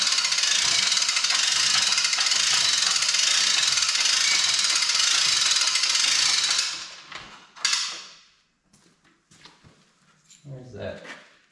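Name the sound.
cranking up the front of a riding mower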